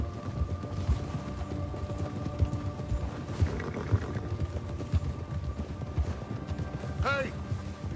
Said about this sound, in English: Rolling on our horses.